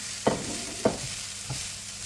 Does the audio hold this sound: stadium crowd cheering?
no